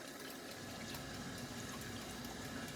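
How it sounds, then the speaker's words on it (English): Cold water poured into a pan of lemon pie filling, a steady close splashing gush that runs unbroken at low volume. "Now what we're going to do is put a little bit of a water in here."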